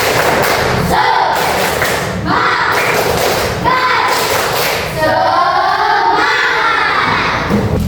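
A class of children claps and shouts together in loud bursts, a rhythmic classroom spirit-clap cheer with thumping claps and voices throughout.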